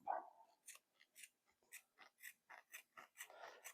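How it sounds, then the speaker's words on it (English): Heavy shears snip through the nylon straps of a surplus military TAP chest rig, a run of about ten short, crisp cuts in a steady rhythm, close and fairly quiet with no talk. "I'm going to take some shears. You can use a razor knife, and we're going to remove these straps across the top."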